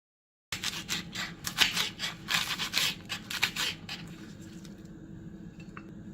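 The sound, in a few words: knife chopping spring onion white parts into chunks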